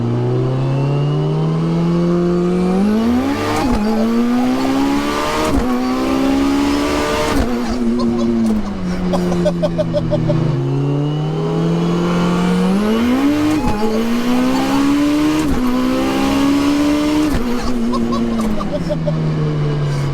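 A 1000 whp Mitsubishi Evo 9 with a sequential gearbox pulls hard in first gear, its loud engine rising in pitch through several rev sweeps with sharp shift cracks, heard from inside the car under occasional talk.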